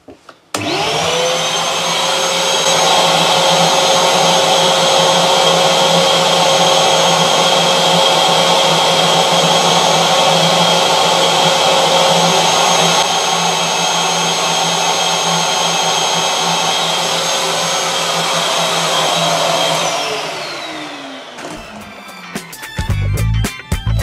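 A shop vac motor starts up and runs steadily with a loud, constant whine and airflow roar, then winds down at the end, set up for an airflow measurement in cubic meters per second.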